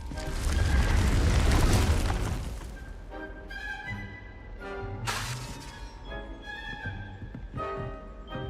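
A Confringo fire spell bursts in the video game Hogwarts Legacy: a loud, roaring explosion that shatters and rumbles for a couple of seconds, followed by lighter crackling debris and a second sharp burst.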